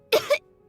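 A single short cough from a child character in Genshin Impact, two quick bursts close together, fairly near and clear, with a faint steady tone underneath.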